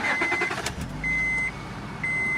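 A small used car's engine runs with a steady low rumble at close range, while a thin electronic beep sounds in long repeated tones over it.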